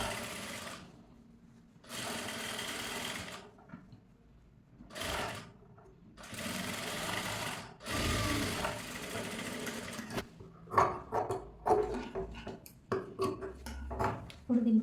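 A sewing machine top-stitches a strip onto blouse fabric in several loud bursts of steady whirring separated by pauses, followed by shorter stops and starts with light fabric handling and clicks near the end.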